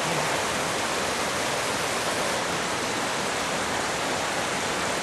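Water rushes along a nature-trail path in Vernířovice, a dense, loud, unbroken hiss of flowing water close by, with no one talking.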